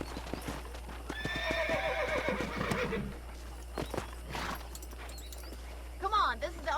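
Hitched horse in Red Dead Redemption snorting and neighing with clopping hooves, a close whinny rising early on, then softer steps and movement as a voice speaks over it.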